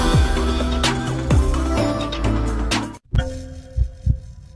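A heartbeat sound effect in an advertisement, deep rhythmic thumps under dense music, cutting out briefly before a few sparser beats return.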